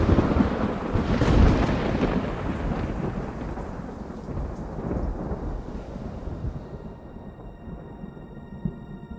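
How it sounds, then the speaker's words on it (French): Thunderstorm over mountains, a heavy rumbling thunderclap early on rolling away beneath steady hissing rain that continues to the end. "Puis la foudre s'était invitée, frappant de toutes parts, le tonnerre faisant trembler la montagne."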